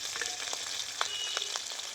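Small crabs frying with salt and turmeric in a pan, a soft continuous sizzle with light crackles and a few faint stirring scrapes, close and fairly quiet.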